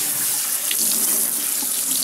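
Hot water runs steadily from a kitchen tap into the sink, a continuous broadband hiss and splash that stays level and fairly close throughout.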